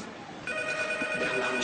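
A telephone bell rings indoors in a steady, bright trilling tone that starts abruptly partway through and continues to the end, fairly loud and near.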